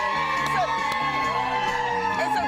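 Whooping and cheering from a crowd of morning show fans from Texas outside a New York TV studio in Times Square, lively and sustained under music and a voice.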